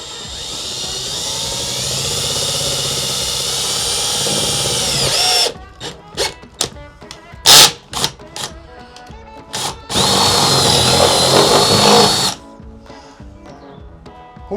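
Power drill boring through plywood on a 5x8 cargo trailer camper build: a long steady whine, then a series of short choppy bursts and one more sustained run, close and loud with no talk.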